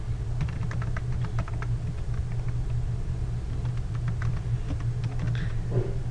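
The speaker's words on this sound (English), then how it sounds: "Just typing in my library barcode and PIN." Typing on a computer keyboard to enter a library barcode and PIN, a run of quick, light key clicks in uneven bursts over a steady low engine-like rumble.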